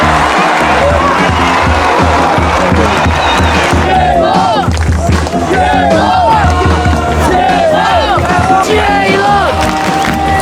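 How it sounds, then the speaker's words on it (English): A loud crowd at a Geelong AFL football match chants and cheers in unison from the cheer squad, rhythmic shouts and whoops rising and falling over a dense roar of many voices. "credit to Geelong, they made that cheer squad loud."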